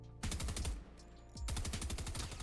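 Automatic gunfire with heavy recoil in a video game: two loud rapid bursts of evenly spaced thumping shots, the first cut off briefly before the second starts, close and dominant with no talking.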